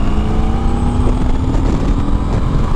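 A 2016 Victory Octane motorcycle accelerates hard in third gear from about 38 mph, its engine a loud, continuous close-up roar throughout the short burst.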